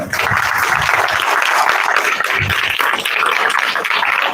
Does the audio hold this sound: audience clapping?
yes